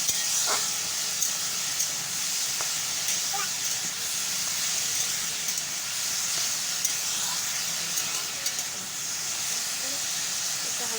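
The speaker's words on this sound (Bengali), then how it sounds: "তো পটলগুলো দিয়ে ভালো করে ভেজে নিচ্ছি" Pointed gourd pieces fry in a pan of oil, giving a steady broadband hiss and sizzle that runs without a break, with faint scattered crackles and small clatters over it.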